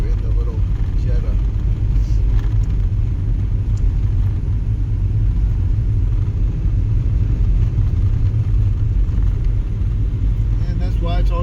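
A small front-wheel-drive Volkswagen Jetta drives through a snowstorm, its engine and road rumble a steady, loud drone throughout with no pauses.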